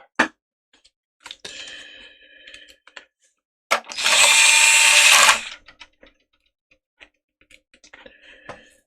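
An electric screwdriver works on the screws of a PS5 console, giving short clicking ratchet ticks and a loud whirring burst of about two seconds, then more small clicks and taps at close range, with no talking.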